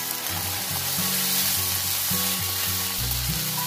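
Goat brain fries in masala in a pan, a steady loud sizzle running throughout while a spoon stirs it gently, with no talking.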